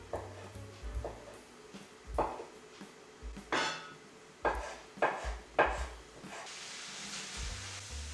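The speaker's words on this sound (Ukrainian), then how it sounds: "Зараз буду нарізати печінку. Печіночку також стараюся нарізати соломкою такими продовгуватими шматочками." Chicken liver is sliced into strips with a knife on a board, about a dozen quiet separate cuts and taps at an irregular pace, close and soft.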